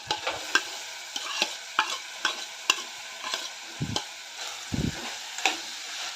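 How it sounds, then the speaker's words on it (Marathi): Shelled lima bean seeds sautéed in a pan with potato, a steady sizzle broken by repeated sharp stirring scrapes and two deeper thumps, close and alone with no voices. "पावटा घालून एक दोन मिनटं चांगलं परतून घेऊया"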